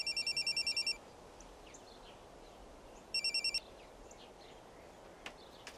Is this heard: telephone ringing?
yes